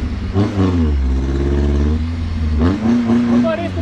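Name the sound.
Willys jeep engine straining on an off-road trail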